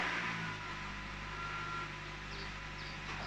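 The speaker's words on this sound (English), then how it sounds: "I've started my car now," A Nissan X-Trail idles after being started, a faint steady engine hum that holds at a constant level throughout.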